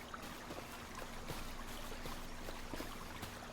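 Running water on a farm, a steady stream trickling and pouring continuously at moderate distance, faint and alone with no voices.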